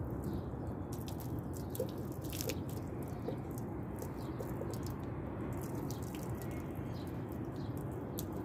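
Hot water is poured steadily over a fiberglass vehicle bumper during a repair, making a continuous close splashing and trickling wash with scattered drips and no talking.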